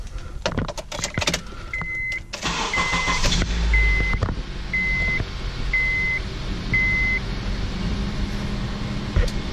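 A Honda car starts up amid interior clicks and jangling keys, the engine catching into a steady low idle while a repeated dashboard chime beeps at regular intervals.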